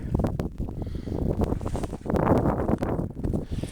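Gusty desert wind in Anza-Borrego Desert State Park buffets the microphone in low, rumbling bursts that rise and fall irregularly, loud and close.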